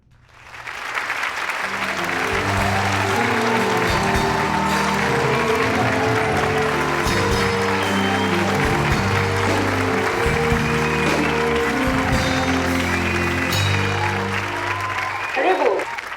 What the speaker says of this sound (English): Let's give a warm round of applause to Mr. Adam.